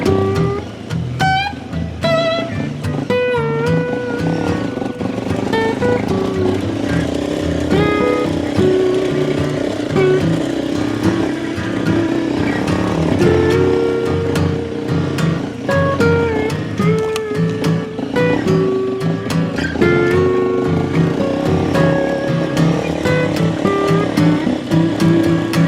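A Honda 300 rally motorcycle engine drones and revs continuously on a rocky dirt track on Grigor Road near Jimna, loud and close with shifting pitch and rattling over rough ground, wind buffeting throughout.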